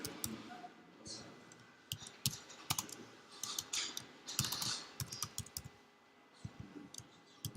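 Quick bursts of typing on a computer keyboard, clusters of sharp key clicks with short pauses between them, close and fairly loud.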